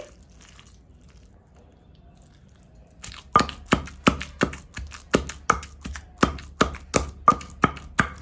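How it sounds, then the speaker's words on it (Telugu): Tindora (ivy gourd) chutney with green chilli paste pounded in a mortar: a quiet start, then a steady run of about a dozen sharp, evenly spaced thuds up close. "మొత్తం కలిపి మళ్ళీ ఒకసారి కొద్దిగా దంచామనుకోండి మనకి పచ్చడి అయితే రెడీ అయిపోతుంది"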